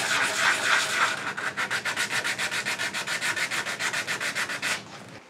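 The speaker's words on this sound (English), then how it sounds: "I'm mostly going to sand with the grain to deal with some of those troublesome areas" Hand sanding on a cherry burl hollow form, worked with the grain: steady rhythmic back-and-forth rasping strokes, close and fairly loud, speeding into an even run of regular scrubs before trailing off, with no voices.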